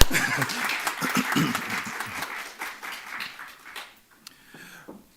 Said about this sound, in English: give her a big round of applause, please.